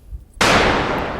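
A single sharp rifle gunshot fired at a wild boar during a hunt in southern France, a sudden loud report after near silence that rings on with a long echoing tail.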